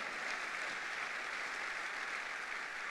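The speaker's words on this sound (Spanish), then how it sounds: "Dele fuerte ese aplauso al Cristo de la gloria" Church congregation applauding during a Sunday morning service, a steady dense wash of clapping from many hands that holds evenly loud for the whole stretch with no voices over it.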